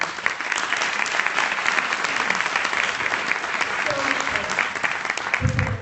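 Audience applause at the Atlanta VegFest talk on vegan living, a steady, full wash of many hands clapping throughout, loud and sustained with a faint murmur of the crowd.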